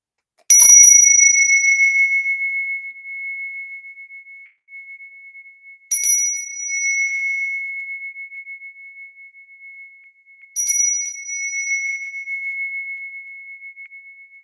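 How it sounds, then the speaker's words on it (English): A space clearing bell rung three times, each strike a bright, clear metallic ping with a long sustained ringing tone that slowly fades before the next strike, spaced about five seconds apart, close and alone. "I'm going to ring my bell, which is a space clearing bell. I'm going to ring it 3 times"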